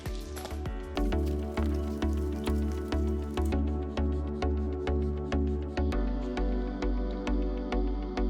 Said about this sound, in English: The remnants of the pre-wash back on, and we're into the hand wash stage.